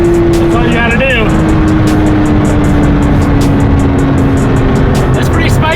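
A 2024 Porsche GT3 RS at full throttle, its engine note holding a steady drone as speed builds, loud and close, with wind and road roar throughout and a voice talking over it.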